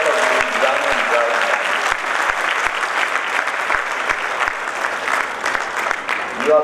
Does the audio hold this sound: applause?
yes